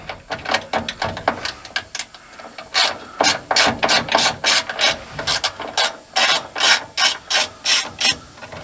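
Machine screws being backed out of an electric step's control box, heard as a steady run of short rasping, ratcheting turns in quick rhythmic bursts, close up and fairly loud with no talking.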